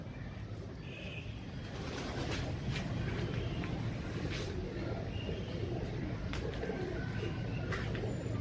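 Pigeons kept by a hobby breeder coo softly and steadily over a continuous outdoor background hiss, with occasional faint bird calls from nearby.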